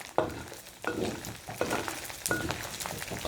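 Pork rib bones fry in hot oil in a home kitchen, sizzling loudly in repeated bursts as pieces are stirred and turned, close and with no voices.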